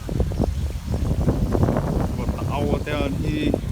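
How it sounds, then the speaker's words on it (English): Strong outdoor wind buffets the microphone with a low rumble, heard under someone talking close by in an open outdoor space. "Hopefully you can hear me, it's pretty windy."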